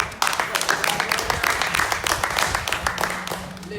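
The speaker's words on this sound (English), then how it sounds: "people give God a round of applause one time." An audience claps through a round of applause at an outdoor Bible study, dense sustained clapping from a nearby crowd with a voice speaking over it.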